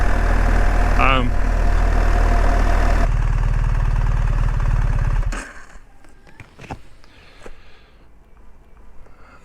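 A BMW motorcycle engine idles steadily and loudly for about five seconds, then cuts out, leaving quieter background noise with a few faint knocks.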